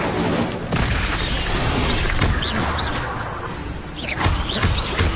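A fiery Incendio spell blast in the video game Hogwarts Legacy rumbles and crackles as a sustained roar, with sharp impacts and creature screeches in the fray.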